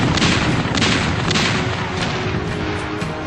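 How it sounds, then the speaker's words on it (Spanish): Heavy gunfire from a naval battle between warships at the 1879 Battle of Angamos involving the ironclad Huáscar, a dense continuous barrage of booming shots with overlapping blasts and no voices. "los disparos se realizaban con todo el armamento disponible"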